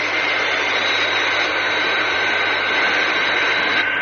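The supersonic airliner Fireflash climbs into the sky with a loud, steady jet roar and a high whine, holding constant with no talk over it.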